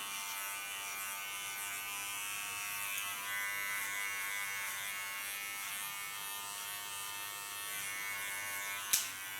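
Electric hair clippers buzz continuously and close, cutting an ultra short style with the blade run through the hair at the back, steady in tone with a sharp click near the end.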